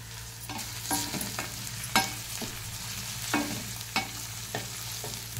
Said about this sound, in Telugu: ఇలా వేగాలి.